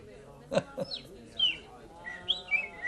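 Short chirps and whistled bird-like tweets sound in quick succession, fairly faint, with a few sharper notes rising and falling.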